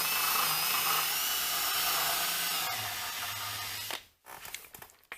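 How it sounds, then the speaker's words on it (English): Drill-driven abrasive wheel grinding old molding off a square body Chevrolet Silverado truck, a loud high continuous whine with shifting pitch that stops abruptly near the end, followed by a few faint scrapes. "Now we'll hit it with our wheel"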